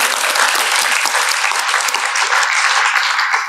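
Loud, dense audience applause for a speaker after a career talk, many hands clapping steadily and close for several seconds without a break.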